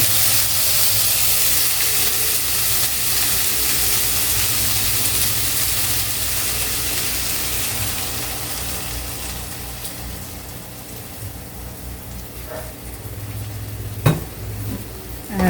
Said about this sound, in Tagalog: At haluin lang natin hanggang sa ma-coat niya na yung mga ampalaya.